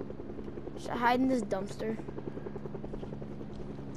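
A helicopter in a video game flies overhead with a steady buzzing rotor drone beneath a person speaking briefly, the chopping hum continuing alone after the talk ends.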